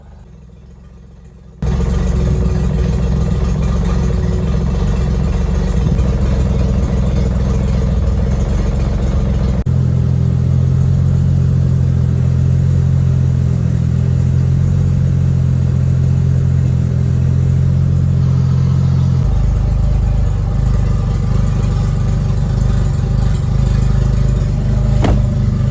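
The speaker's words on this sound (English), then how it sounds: "The blow-off valve should actually probably be shut. It shouldn't be venting atmosphere, just idle." Turbocharged Lexus GS300 engine idling steadily up close, a constant low rumble with a hiss of the blow-off valve venting to atmosphere, the tone shifting slightly partway through as the idle changes.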